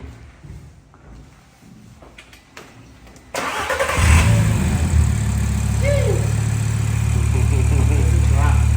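A Mk6 VW Golf R with a swapped engine, converted to RS spec, cranks and fires up after quiet shuffling, then settles into a loud, rumbling idle with a short rev partway through.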